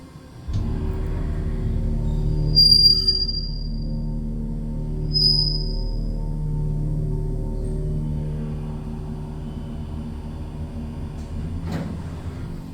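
A steady low mechanical hum and rumble of a Kone hydraulic elevator in a parking deck, running poorly, with a couple of brief high whines and a faint clunk near the end.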